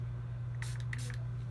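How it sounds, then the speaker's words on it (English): Short hiss bursts of a spray bottle misting liquid onto a glam makeup or hair look for a wet finish, two quick close sprays over a steady low electrical hum. "I'm gonna spray this and make it wet"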